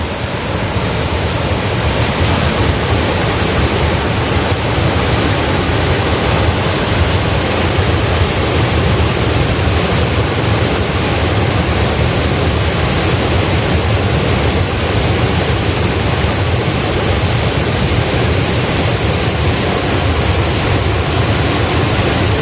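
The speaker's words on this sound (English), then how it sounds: "Listen to the sound of the water." Fenton Falls waterfall in Williamsfield, Westmoreland, Jamaica, roaring loud and close as a dense, unbroken rush of falling water that holds steady throughout with no voices.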